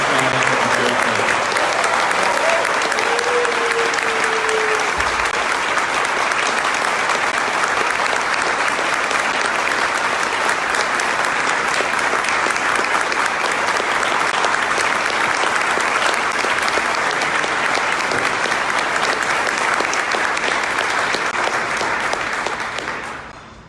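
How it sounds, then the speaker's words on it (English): An audience at an evening justice awards celebration applauds honorees in a long, loud, sustained wave of clapping that holds steady before tapering off at the end. "Please join me in giving a very excited round of applause"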